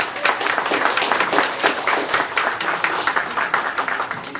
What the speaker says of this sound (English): I want to give him a special round of applause